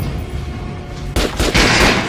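Gunfire at a target's chest in Metro Last Light Redux, a low room-tone hum that gives way to a sudden loud, sharp report about halfway through, followed by another burst of shots with a ringing tail.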